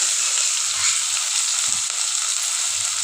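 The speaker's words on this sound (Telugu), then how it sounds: "వీటిని ఇప్పుడు నేను తాలింపులో వేసుకొని కలుపుకుంటానండి." Eggplant and ridge gourd sizzle steadily in hot oil tempering, a continuous close hiss with soft stirring thumps underneath and no voices.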